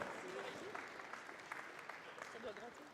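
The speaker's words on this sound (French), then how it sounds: "qu'on applaudit bien fort." Awards ceremony audience at a pool-industry trade expo applauds a lighting and electricity award winner, steady, fairly faint clapping filling the room with a few voices mixed in.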